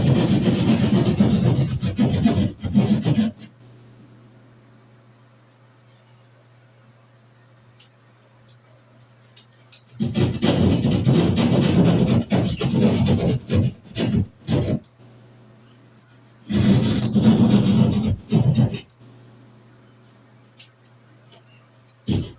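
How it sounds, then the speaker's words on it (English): A keyhole saw cuts through a drywall (sheetrock) wall, giving three separate bursts of rough rasping strokes, close and fairly loud, with quiet pauses between them. "And we'll use our keyhole saw."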